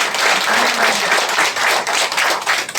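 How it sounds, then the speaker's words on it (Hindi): Dense, loud audience clapping fills the room at a marketing program in Butwal, a steady roar of many hands with slight swells and dips and no speech. "ताली ताली"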